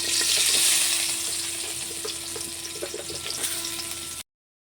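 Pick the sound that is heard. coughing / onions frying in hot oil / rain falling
onions frying in hot oil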